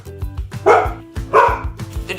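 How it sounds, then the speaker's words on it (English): Several dogs bark repeatedly and loudly nearby indoors, in quick uneven volleys, with a person's voice partly over them. "The dogs are barking because we are right below Clover, the bunny's room."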